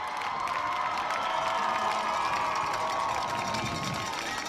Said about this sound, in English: let's give it up for both teams. A well-deserved round of applause